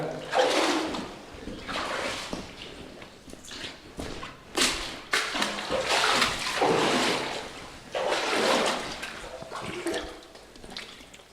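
Wading through deep water in a flooded coal mine, with irregular sloshing splashes and heavy swishing steps that come in bursts, close and fairly loud, echoing in the tunnel.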